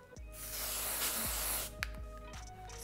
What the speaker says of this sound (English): using our dry texture finishing spray